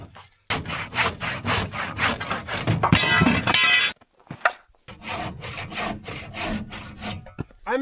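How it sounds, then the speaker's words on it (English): A handsaw cuts through wood during a cabin demolition in -43° extreme cold: rapid, steady rasping strokes close by, a brief pause near the middle, then the sawing resumes at the same pace. "I'm actually pretty decent at sawing if it's held steady."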